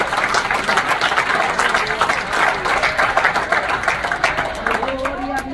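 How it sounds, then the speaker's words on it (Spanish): A church congregation at a women's campaign service in Milwaukee, Wisconsin breaks into sustained applause, a steady wash of clapping that carries a loud voice over the top throughout. "Denle un aplauso frente al Señor."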